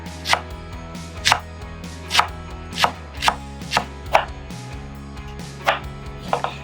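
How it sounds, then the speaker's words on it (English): A knife chops green onions into thin round circles on a cutting board, making about eight sharp, distinct knocks at a loose, uneven rhythm, close and clear, with no talking. "Chop 4 green onions to tiny round circles."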